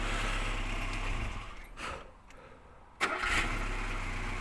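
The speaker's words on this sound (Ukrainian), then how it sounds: "Мотор не шепче, тому що там розпідвал трохи вшатаний" An old engine with somewhat worn camshaft gear, freshly fitted with new piston rings, runs steadily and loud up close, dips and sputters briefly in the middle, then catches again with a sharp burst and resumes its rough, continuous running.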